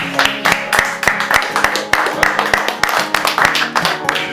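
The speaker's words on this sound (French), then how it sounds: "il faut applaudir toute l'équipe" Applause for a team at a French production's making-of, a room of people clapping in irregular bursts, close and fairly loud, with some talk mixed in.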